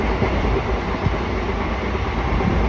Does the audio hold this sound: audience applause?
no